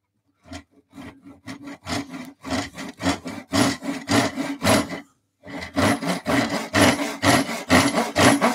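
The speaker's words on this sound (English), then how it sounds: "I'm going to use a Japanese saw because it's quick and it's a pull cut" A Japanese pull saw cuts wood held in a bench vise, giving a close, loud run of rhythmic rasping strokes that quicken and continue after a brief pause.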